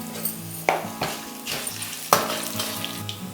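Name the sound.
tempering frying in oil with dried red chillies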